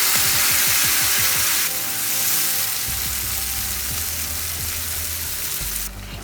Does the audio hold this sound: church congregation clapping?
no